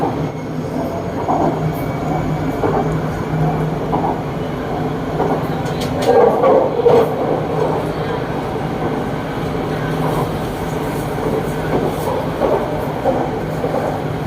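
A Bangkok MRT Purple Line metro train runs toward Tao Poon station, with a steady rumble and wheel noise throughout and some faint squeals and clatter midway, while someone talks over it.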